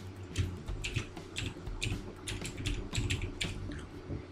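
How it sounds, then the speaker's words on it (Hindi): Rapid clicking of keys on a computer keyboard, an uneven rhythm of light taps close to the microphone with no voices, and a faint low hum behind it. "फिर आप जो भी चाहिए इसमें टाइप कर सकते हो।"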